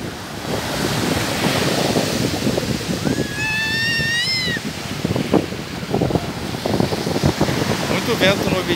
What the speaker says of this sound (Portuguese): Muito vento no ouvidinho dela.